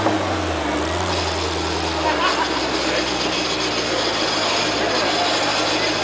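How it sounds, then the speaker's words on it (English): Tuned supercar engine with wet clutches, loud and constant up close, carrying a steady mechanical whine and rattling gear chatter over a low rumble that fades after a couple of seconds. "Listen to the wet clutches."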